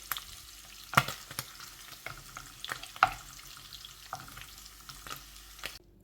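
Paneer cubes frying in a pan of oil for Indian paneer butter masala, a soft steady sizzle with a few sharp clicks as the pieces are turned, close by and alone until it cuts off near the end.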